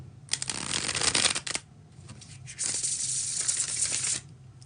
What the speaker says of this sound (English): That is the bridge shuffle.